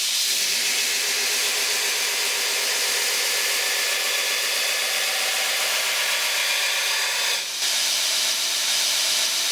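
A grinder works a false edge along the top of a knife blade, giving a steady, loud, hissing grind that runs unbroken, with a brief dip near the end.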